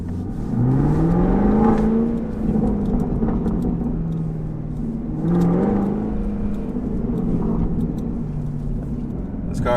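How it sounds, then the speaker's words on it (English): A Chevrolet Camaro SS 1LE engine revs and accelerates twice with rising, rumbling exhaust tones, steady road noise throughout; distinct exhaust pops are not clearly separable. "See if I can get some more pops from the exhaust for you all."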